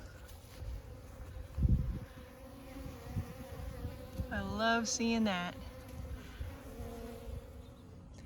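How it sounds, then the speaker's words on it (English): Honey bees buzz steadily around a hive on a warm winter day, a close, continuous drone that swells at moments, with a person speaking briefly over it. "It actually looks like I see quite a few bees right now."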